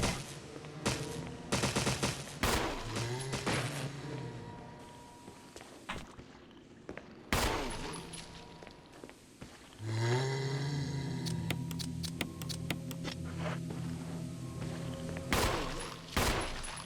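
Gunshots in the 2002 Resident Evil game, ending in a headshot, come as several sharp loud cracks scattered among shuffling footsteps, creature groans and eerie ambient tones.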